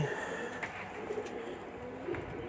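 Pigeons coo softly in a loft, low throaty calls repeating at a moderate distance over faint background noise, with no talking.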